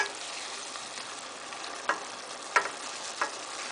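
Mushrooms and salmon frying in a pan for a stir-fry, a steady close hiss of sizzling with a few light clicks of utensils against the pan.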